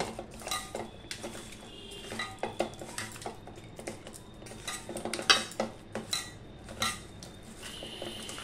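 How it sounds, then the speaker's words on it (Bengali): Chicken pieces being mixed by hand in a yogurt marinade in a metal bowl, with irregular clinks and scrapes of a utensil against the bowl and soft wet squelches, close and fairly quiet with no talking. "এবার ভালো করে আমি এগুলো মাখিয়ে নেব।"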